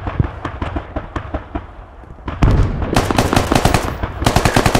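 Rapid automatic gunfire in a military shooter video game, scattered single shots at first, then dense, loud sustained bursts, with no talking.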